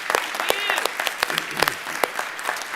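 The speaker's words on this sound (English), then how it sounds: "Give everybody a round of applause for that." Applause from the audience at a State Bar of Georgia annual meeting, dense sustained clapping from many hands filling the room at steady loudness throughout, with a voice briefly audible beneath it.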